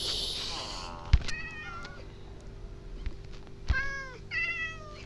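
Cats meowing in the video game Minecraft, several short rising-and-falling meows in two clusters with a couple of soft clicks between, moderately close over a quiet background.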